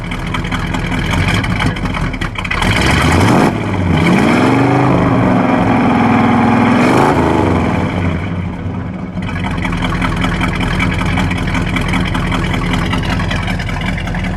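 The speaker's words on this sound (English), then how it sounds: "Let me let that just rumble for a moment." A 1970 Plymouth Road Runner with a 383 V8 rumbles at idle close by, its steady low exhaust burble briefly rising in a single rev before settling back to a loud, even idle.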